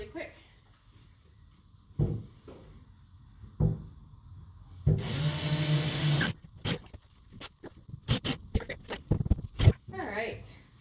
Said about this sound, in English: I'm going to drill a hole in the top.